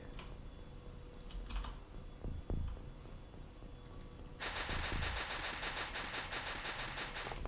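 Gunfire from the strategy video game Open X-Com, with a few sharp shots early on, then a sustained, dense rattling burst of automatic fire in the latter half over faint game ambience.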